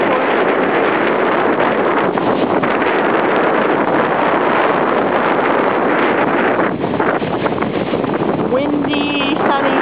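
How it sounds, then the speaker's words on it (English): Strong wind buffeting the microphone on a sunny seaside trail in Sechelt, BC, a loud constant roar that buries any waves, with a faint bird chirp near the end. "Windy, sunny, wavy day."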